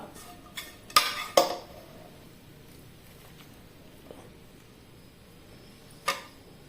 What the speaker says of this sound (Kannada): ಈಗ ಇದನ್ನೆಲ್ಲ ಮಿಕ್ಸರ್ ಜಾರಿಗೆ ಹಾಕಿಕೊಳ್ಳುವ.